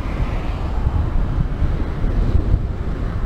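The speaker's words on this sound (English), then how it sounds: "You may hear that headwind." A strong headwind buffets the microphone while riding a Ninebot One electric unicycle, producing a continuous rumbling, gusty roar with no speech.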